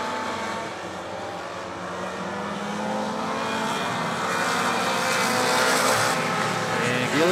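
Front-wheel-drive four-cylinder race cars racing at Thunder Mountain Speedway, with a steady engine drone that rises slowly as cars power out of a corner, heard from a distance with crowd and wind noise.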